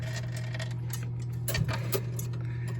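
A mechanical clock ticks softly at close range, with a steady low hum underneath and a couple of louder clunks partway through as it is handled and wound; no talking.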